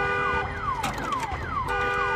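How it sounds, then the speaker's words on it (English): A car alarm in Days Gone blares loudly with repeated falling, sweeping tones in a steady cycle, close and continuous with no talk. "Can't believe a car alarm would work after all that time."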